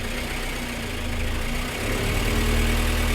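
A Peugeot 305 van engine runs steadily close by, a low idle hum with a faint rise in the last second as the throttle is tested, with no talking.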